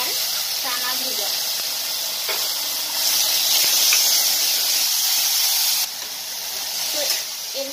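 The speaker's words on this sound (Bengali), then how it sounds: "এখন দিচ্ছি আমি মুগ আর চানা ভেজা।" Soaked mung beans and chickpeas hitting a hot pan, a loud steady hiss and sizzle that swells midway, with scattered clinks and scraping.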